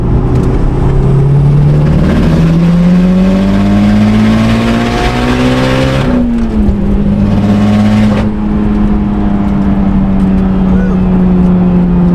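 A Subaru WRX car engine, showing a check engine light, revs up loudly and close, pitch climbing, briefly drops off, then rises again into a strong, sustained roar.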